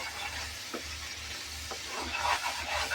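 Curry leaves crackle and sizzle in hot oil for a crab curry, a steady close hiss with a few small pops, no voices.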